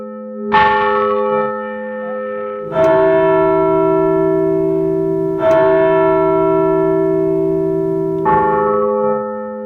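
Church bells ring inside a bell tower with four loud, close strikes at roughly even intervals, each leaving a long, rich hum that carries into the next, with no talking.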